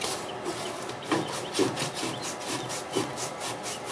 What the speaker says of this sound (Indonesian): Kemudian boleh kita amplas ya, amplas halus supaya lebih bersih lagi.